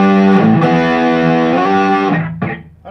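An electric guitar fitted with a DiMarzio Super Distortion pickup is played through heavy distortion, giving loud, close, sustained buzzing chords and held notes that bend and shift before cutting off abruptly, with a brief scrape at the end.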